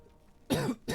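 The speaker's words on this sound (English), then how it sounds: "Again, I do apologize for the coughing." Two sharp, loud coughs, a short one followed by a longer burst, from a person streaming World of Warcraft: Mists of Pandaria Classic, close to the microphone with quiet room tone before them.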